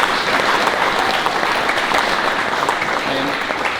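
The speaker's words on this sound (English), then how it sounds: "Just a wee quick round of applause before I forget." Wedding guests at the reception speeches break into a brief, loud round of applause, dense and close clapping from the whole room that holds steady throughout.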